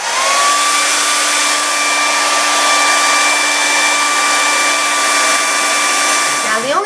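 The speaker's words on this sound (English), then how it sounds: "Now I'm going to show you the non-ionic hairdryer" A Conair 1875-watt non-ionic hair dryer runs close and loud, a steady airy roar with a constant whine that holds throughout, then slides down as it shuts off at the end.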